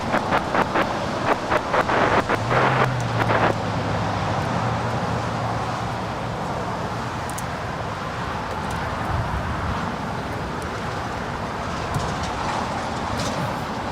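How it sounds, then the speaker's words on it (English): An American Airlines A321 departs a Los Angeles LAX runway, a broad, distant jet roar washing steadily under heavy wind buffeting, with a few short knocks early on. "our next departure here on the south side is American Airlines in the flagship Valor livery. It's an A321 heading to Orlando"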